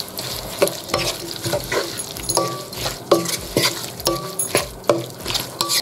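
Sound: mixing spiced boneless chicken frying in a pan

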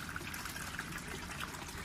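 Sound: water flushing through a cascading flood-and-drain gutter bed

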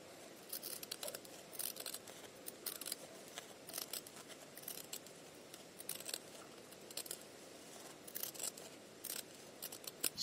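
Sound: pinking shears trimming fabric for a child's bib

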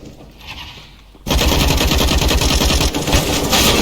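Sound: gunshots from video game CS GO on Dust 2

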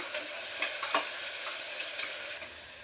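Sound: onion and tomato sautéing in a pan

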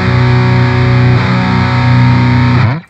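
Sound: electric guitar through distortion, PRS SE Custom 24-08 neck pickup

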